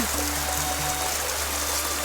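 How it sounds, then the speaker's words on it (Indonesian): Spring water gushing from between rocks in a forest with no river above, a steady broadband rush of flowing water close by, with faint low tonal hum underneath. "Luar biasa kan, deres kayak gini teman-teman airnya"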